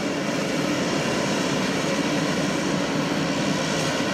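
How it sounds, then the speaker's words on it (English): Steady, loud roar of a fixed-wing aircraft engine, the president's plane at a typhoon-damaged airfield in Tacloban, holding constant with no talk over it. "That's the president's plane."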